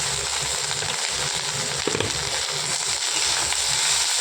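Pointed gourd and potato peels, sprinkled with salt, fry in a pan with a dense, steady sizzle. The crackle is loud and unbroken from start to finish, with a few faint pops.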